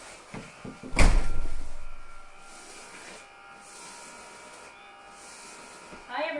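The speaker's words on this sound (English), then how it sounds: "You go and shut that door for me outside." An indoor door is pushed shut once, landing as a single solid thud with a short rumbling decay, followed by quiet room tone and a faint thump near the end.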